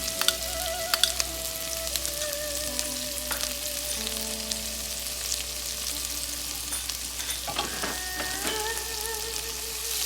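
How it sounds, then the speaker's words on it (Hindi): Julienned carrots, green and red bell peppers and spring onion sauté in a pan over high heat, giving a soft, steady sizzle with occasional light clinks and scrapes. "अब इसको तेज आंच पर ही हम सौटे करेंगे।"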